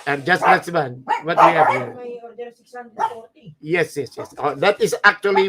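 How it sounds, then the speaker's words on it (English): Dogs bark in the background during a live talk-show broadcast, with several short barks and yips mixed under steady conversational speech from a man. "you can hear the dogs barking"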